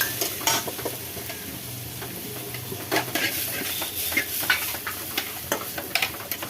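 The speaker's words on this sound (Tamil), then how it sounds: "வதங்கி அதோட பச்சை வாசனை எல்லாம் போகிற வரையும் நம்ம கொஞ்சம் நல்லா வதக்கிக்கலாம்." Freshly grated coconut stirred and sautéed in a pan for coconut rice, a steady sizzle with frequent scraping strokes of a spoon, close and moderately loud, with no voices.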